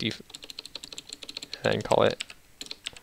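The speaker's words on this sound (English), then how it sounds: "I also got a new keyboard, so if you hear all that clicking" A new computer keyboard clicks rapidly and irregularly under continuous typing, with a person talking briefly over the close, crisp keystrokes.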